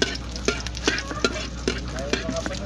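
Chopped garlic fries in hot cooking oil for a Filipino mud lobster dish, a steady close sizzle broken by regular scraping stirs about every half second, with no talking.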